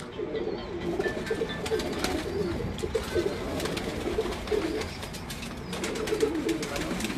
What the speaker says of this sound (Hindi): ये इनके जोड़ों वाले कबूतर हैं